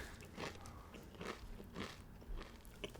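Crunchy freeze-dried nachos with beef, lettuce and cheese being bitten and chewed up close, with several sharp crackling crunches in a steady rhythm and no talking.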